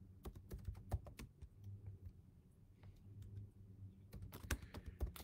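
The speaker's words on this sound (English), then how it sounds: "I'll type it in for you." Fingers type on a computer keyboard nearby in uneven bursts of crisp clicks and taps, with a short pause midway before a quicker flurry of keystrokes resumes.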